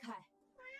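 A cat meows in a short, fairly loud burst, followed after a brief pause by a second, thinner meow, inside a tense indoor scene.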